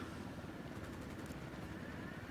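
A helicopter drones steadily in Ghost Recon: Wildlands, a faint, continuous rotor rumble somewhere in the distance with no talking.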